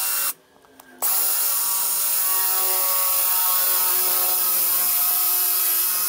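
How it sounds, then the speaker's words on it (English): Power drill boring into a plywood bench, a steady high whine that starts after a brief pause and runs continuously at close range, with no talk. "All right, and see if we can drill straight there."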